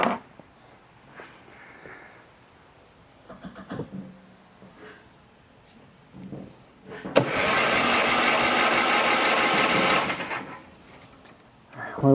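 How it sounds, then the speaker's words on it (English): A car engine cranks steadily on the starter for about three seconds during a compression check, loud and close, after scattered workshop clicks and handling noises. "typically do a compression check on it if it's a car that we haven't seen before"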